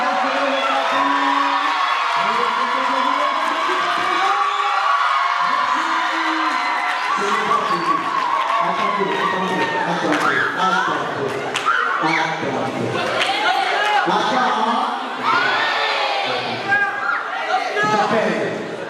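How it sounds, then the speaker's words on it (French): A debate audience cheers and applauds the team captain, a loud sustained crowd roar of whoops, shouts and clapping, with voices calling out over the din throughout. "Est-ce qu'on peut applaudir le capitaine?"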